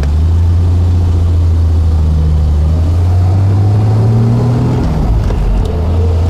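A 1972 Triumph TR6, not yet fully warm, pulls away with a loud, close engine drone that holds steady then rises in pitch as it accelerates, with no talking.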